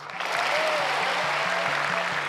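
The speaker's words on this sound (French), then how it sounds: "Applaudissez-le" An audience at a French political event applauds a speaker praised for his European commitment, a steady, even rush of clapping with a low, regular rhythmic hum beneath it.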